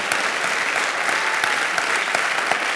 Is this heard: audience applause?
yes